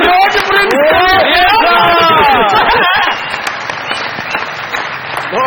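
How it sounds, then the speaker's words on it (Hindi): Studio audience at a comedy show breaks into loud, sustained applause mixed with crowd noise, following a voice over the first half. "बहुत सारी तालियां"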